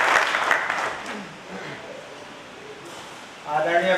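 Applause from an audience fills the start, fades to a quieter murmur, then swells again near the end.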